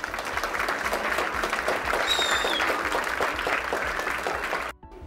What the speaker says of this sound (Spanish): quiero que nos den un fuerte aplauso para todos los que estamos acá para celebrar este día